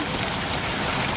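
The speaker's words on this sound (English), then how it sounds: "Yeah, it's doing some hailing now. It's just, luckily it's just pea-sized hail." Pea-sized hail and rain falling outdoors, a steady dense hiss and patter that fills the whole clip without a break, fairly loud and close.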